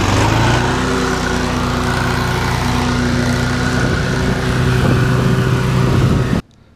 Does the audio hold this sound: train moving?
no